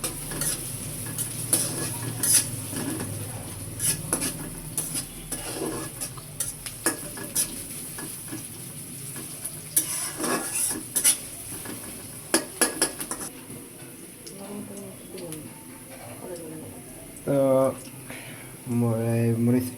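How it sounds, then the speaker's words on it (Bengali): Onions and spices frying for a country chicken curry in a pan, heard as continuous sizzling with repeated metal spoon clanks and scraping, while someone speaks throughout. "পেঁয়াজ ভাজা হয়ে গেছে এখন দিয়ে দিলাম জিরে বাটা রসুন বাটা আদা বাটা অল্প অল্প"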